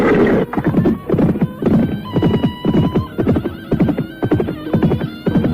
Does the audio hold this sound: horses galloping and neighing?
yes